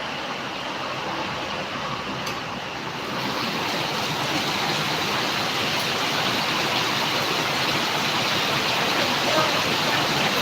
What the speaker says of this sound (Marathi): हवाई हवाय मुसळधार पाऊस आहे मित्रांनो भरपूर पाऊस आहे इकडे